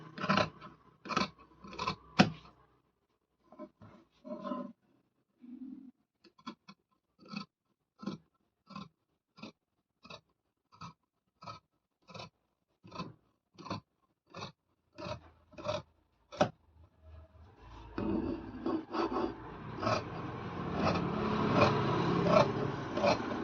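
Scissors snip through blouse fabric while the back piece is cut, giving a long run of short, evenly spaced cuts close by. A denser rustling and scraping of cloth follows near the end.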